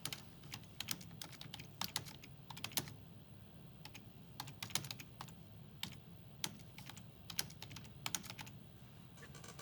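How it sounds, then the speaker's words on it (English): Numbers typed on a computer keyboard into a graphing calculator, a steady stream of light key clicks in uneven bursts, close but quiet, with no voices. "take the time to type in all these numbers"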